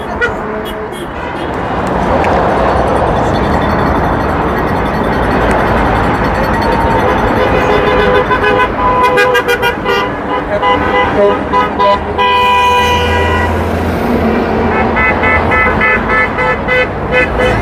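Car horns honk repeatedly over steady road traffic at a protest outside a Tesla dealership in Maryland, some long blasts and some short toots, with voices mixed in.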